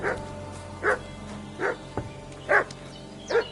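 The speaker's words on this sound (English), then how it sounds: "What's that dog making such a fuss about?" A dog barking in Kingdom Come: Deliverance 2, five evenly spaced sharp barks at moderate distance over a low ambient hum.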